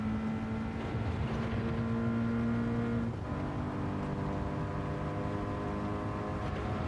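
A hypercar's race engine in a racing video game drones steadily and loudly in fourth gear, its pitch dipping and resettling about halfway through as the throttle comes back on. No voices are heard.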